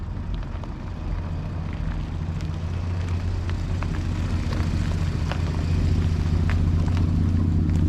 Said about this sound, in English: So let's see how loud the new tires are compared to the old ones.